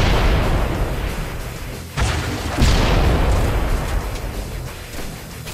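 Rocket launcher blasts in Halo Reach: heavy booming explosions land with a couple of sharp, loud impacts around two and three seconds into a rumbling wash of battle noise.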